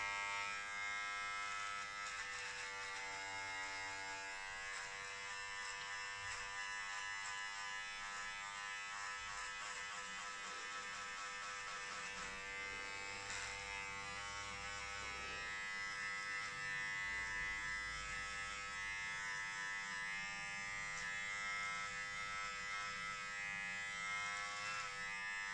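Electric hair clippers fitted with a 1.5 guard fade a beard, giving a steady close buzz with a rich harmonic hum that runs almost continuously, its pitch and loudness shifting slightly as the blade moves across the hair.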